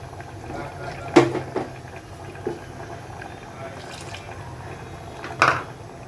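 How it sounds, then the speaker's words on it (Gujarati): Water is poured into a pressure cooker of sautéed vegetables for pulao, heard as a couple of brief splashing pours in a quiet kitchen, with someone speaking. "આપણે 1 બાઉલ એમાં પાણી નાખી દઈશું।"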